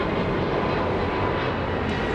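American Airlines jet rolling for takeoff on runway 25 right at Los Angeles International Airport, a loud steady broadband engine roar with no break or rise.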